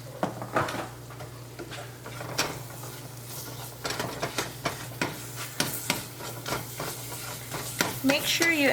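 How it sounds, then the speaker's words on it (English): A tablespoon of butter and a tablespoon of flour cook together in a pan for gravy, with a soft sizzle under repeated loud stirring scrapes and clacks of a utensil and a steady low hum. "And then a tablespoon of flour, and then you cook it."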